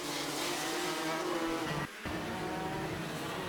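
KZ2 250 shifter racing karts scream around a track at a national final, a dense high-pitched engine wail from several karts at once, briefly dipping before surging again as they pass.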